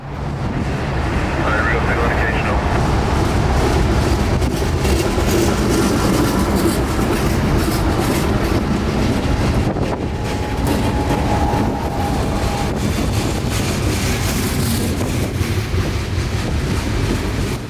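A heavy freight train rumbles past northbound under a highway overpass in cold November weather, a dense low roar with faint rhythmic clatter and wind buffeting the microphone.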